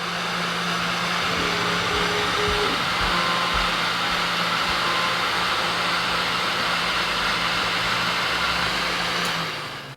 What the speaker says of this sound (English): Turn the spindle on. Spindle works.